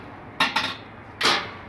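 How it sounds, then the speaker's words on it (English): Turkey lowered into a Char-Broil Big Easy oilless fryer and the mesh lid set on, giving three sharp metallic clanks, two close together and then a single louder one, with quiet in between. "And all you do is just drop it down in there, mesh lid on."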